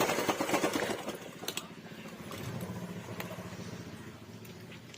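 An electric sewing machine runs steadily up close, stitching a straight line across uniform top cloth, its needle chatter starting with a rapid burst and then settling into a continuous hum.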